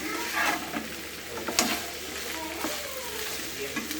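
Okra pieces fry and sizzle in oil in a pan while being stirred, a steady close crackle broken by a few scraping clicks.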